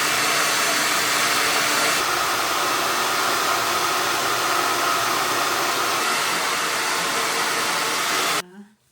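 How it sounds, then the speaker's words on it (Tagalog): Blow dryer drying hair after a home haircut: a loud, steady close-up whoosh of blowing air that carries on unbroken for about eight seconds before cutting off abruptly. "So it's gonna blow dryer this one."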